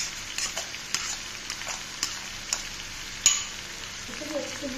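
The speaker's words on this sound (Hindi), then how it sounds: "इसे भी अच्छे से मिक्स कर लेंगे इन सभी के" Crushed ginger and green chilli paste fries in a pan for a vegetarian curry, a low steady sizzle broken by several sharp spatula taps and scrapes against the pan, close by, with no one talking.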